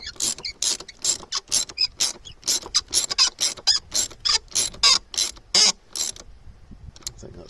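A ratchet tightens a bolt on the clutch pedal of a KIA Venga, giving a close, crisp run of rapid clicking bursts in a steady back-and-forth rhythm that stops near the end.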